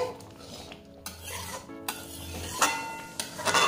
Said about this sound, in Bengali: এবার ভালোভাবে মিশিয়ে নিচ্ছি।